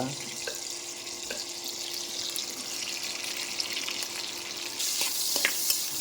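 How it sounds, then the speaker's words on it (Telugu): Chopped onions and green chillies sizzle steadily in hot oil for a tomato curry, a dense broadband hiss with occasional stirring clicks, growing slightly louder near the end; no talking. "ఆయిల్ వేడెక్కాక మనం ముందుగా తరిగి పెట్టుకున్న ఉల్లిపాయలు పచ్చిమిర్చి వేసేయాలన్నమాట"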